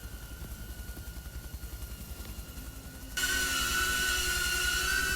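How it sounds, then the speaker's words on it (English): An Apache helicopter passes overhead outdoors after dark, a rapid low rotor thudding that swells into a loud, steady roar partway through. "Where's the Apache helicopter that's making all that ruckus?"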